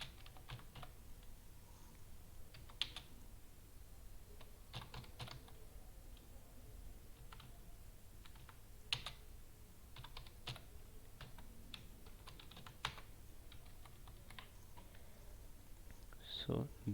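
Steady typing on a computer keyboard while coding in Go, soft irregular key clicks with occasional louder taps, close and quiet, continuing without a break.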